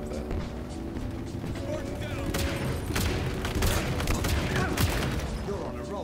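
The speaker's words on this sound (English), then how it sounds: "Let's get away from this exploding vehicle." Vehicle explosion amid heavy gunfire in the video game Halo Infinite, dense rapid shots and blasts layered over one another in a loud, chaotic battle.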